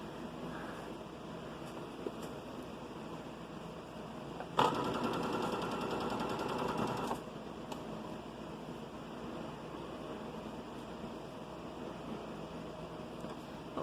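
A sewing machine stitches a children's outfit in one steady burst of about two and a half seconds midway through, with quiet room hum before and after.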